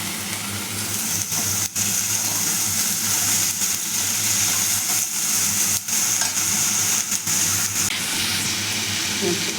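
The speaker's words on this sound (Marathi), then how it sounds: "ढोबळी मिरची टाकून परतून द्यायची." Capsicum stir-fried with masala and turmeric in a pan, a loud continuous sizzle with repeated scraping thumps of the spatula throughout.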